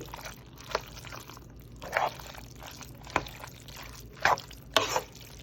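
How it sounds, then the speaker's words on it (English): Thick ground beef filling for shepherd's pie is stirred in a pan on medium-high heat, with soft scraping strokes coming about once a second over a quiet background. "So for now, I'm just gonna stir it up real good."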